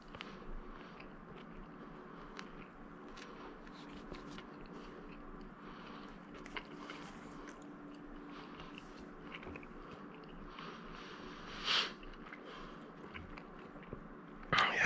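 Someone bites into a crisp slice of Rosa pizza topped with pistachios and onion, baked in an Ooni Koda 16 oven, then chews closely and steadily. The crunch and mouth sounds are close up, with no talking.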